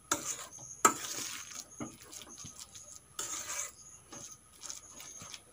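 A spoon scrapes and stirs a masoor dal kebab mixture with salt, garam masala, turmeric, chilli and roasted cumin powder in a bowl, giving soft irregular scraping strokes and a few sharper clinks, close and fairly quiet.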